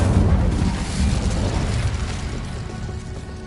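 A fire spell cast in the video game Hogwarts Legacy gives a loud, sustained whooshing roar with booming low rumble, strongest at the start and slowly fading over a few seconds.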